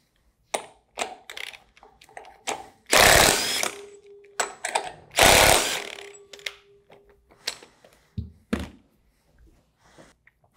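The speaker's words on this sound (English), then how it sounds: "Use the proper socket for your rotor nut and the impact wrench." An impact wrench with a socket removes rotor nuts on a Universal 3 PD pump. Two loud, buzzing hammering bursts, each under a second, stand out among scattered metallic clicks and knocks of tools and parts being handled nearby.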